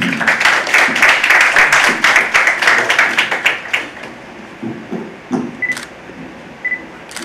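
Audience at an event applauding as a speaker is welcomed, a dense burst of clapping that thins into scattered individual claps and fades out, with a couple of faint beeps near the end.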